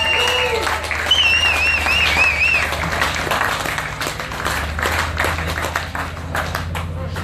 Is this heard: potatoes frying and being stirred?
no